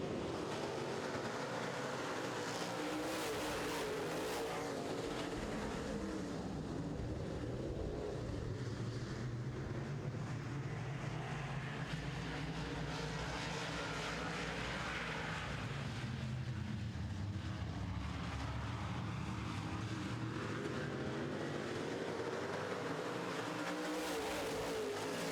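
Modified race cars running a heat on a short track make a continuous, rising and falling engine roar that stays at a steady loudness from start to end, with no voices over it.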